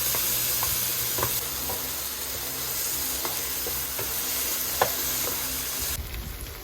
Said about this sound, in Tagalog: Mix it and saute it well.